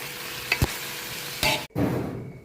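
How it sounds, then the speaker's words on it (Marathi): Stirring and sizzling of onion frying in a pan for gravy, with a couple of sharp scraping clatters and a steady low hiss of frying underneath. "आता ग्रेव्हीसाठी कांदा आपण भाजून घेणार आहे पहिल्यांदा"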